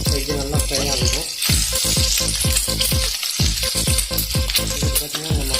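Spicy egg curry masala frying loudly in a pan, a steady dense sizzle broken by repeated scraping stirs in a quick uneven rhythm, close and continuous throughout.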